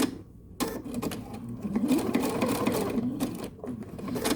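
A sewing machine stitches fabric slowly around a curve in short, close-up bursts of stitching with brief pauses between runs.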